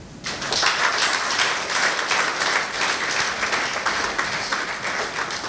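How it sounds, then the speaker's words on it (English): An audience of faculty members at a content-creation masterclass applauds themselves, with sustained, even clapping from many hands filling the room for several seconds at steady loudness. "I want us to clap for ourselves"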